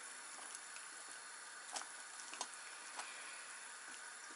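Soup of mushrooms, pork ribs and vegetables simmering in a pot, a faint, steady bubbling hiss with occasional soft ticks and pops, alone and fairly quiet.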